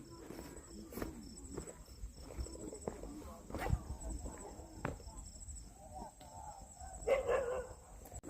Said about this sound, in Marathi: कुत्र्यांनी गाव जागा केलं आहे.